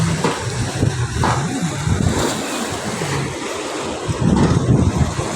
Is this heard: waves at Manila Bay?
yes